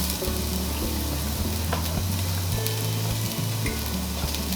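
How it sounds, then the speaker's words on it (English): Chopped onion sizzles steadily in a hot Dutch oven, a loud, close, continuous frying hiss with low bubbling underneath and no talk. "Now that our Dutch oven is nice and hot, we're going to put in our onions."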